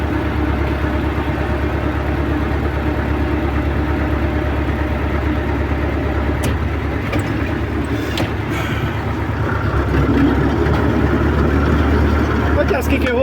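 A tractor engine runs steadily at a loud, constant rumble throughout, with people speaking over it.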